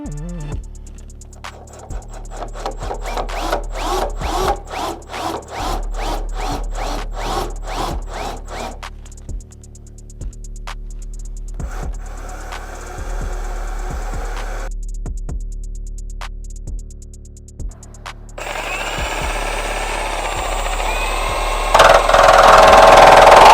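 A power drill runs in a series of short, rapid bursts, pausing between them, then grinds continuously near the end, loud and close with no talking.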